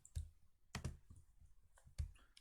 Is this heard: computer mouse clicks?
yes